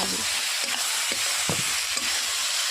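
Fried potatoes sautéed and stirred in a spice masala for a Bengali crab curry: a steady broadband sizzle with a few scraping spatula strokes against the pan, close and alone.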